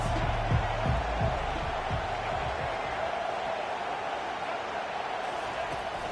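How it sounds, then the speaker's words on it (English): Football stadium crowd at a Florida at Auburn game, a steady broad roar with faint cheering rising early, continuous and fairly loud throughout, with no voices standing out. "This crowd trying to make life miserable for this offense."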